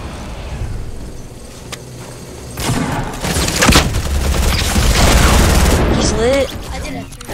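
Rapid video game gunfire, with shotgun blasts and bursts of automatic fire, crackles in dense clusters from about the middle of the clip onward, mixed with a player's voice talking over it.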